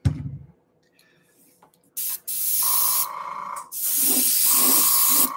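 Spray can bursts as a Mandalorian helmet gets painted, with a short hiss and then long, loud, steady sprays separated by a brief pause, close up and with no talking.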